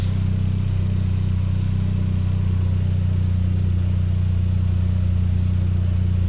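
A Volkswagen Mk5 GTI idles steadily, its low engine drone carrying a constant buzzing vibration with no changes in pitch, running alone without voices.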